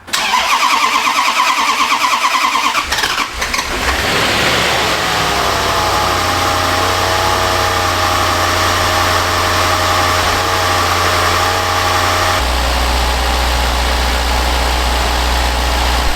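A Land Rover LR4's 5.0 V8, rebuilt with a new timing chain and engine covers partly off, cranks with a rough mechanical churn, catches, then settles into a loud steady idle that drops to a deeper, even hum.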